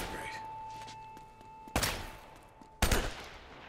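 Gunfire in Uncharted: Drake's Fortune, heard as two separate loud sharp reports spaced about a second apart over steady game ambience and a faint tone.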